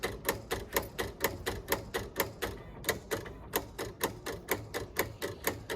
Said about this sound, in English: So this is the auto blade adjusting, so you don't have to do it yourself.